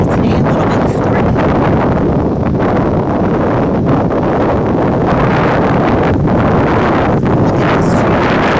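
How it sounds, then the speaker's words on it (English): Strong, stormy wind roars steadily through trees outdoors, a loud continuous gusting rush with buffeting on the microphone, no other sound standing out. "Windy today, a little bit stormy."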